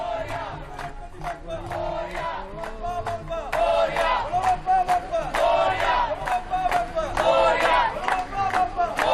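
A large crowd chanting and shouting together in rhythmic bursts at a Ganesh immersion procession in Dadar, Mumbai, loud and energetic, with repeated surging cheers.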